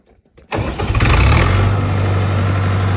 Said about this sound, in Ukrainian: Заводиться тракторець.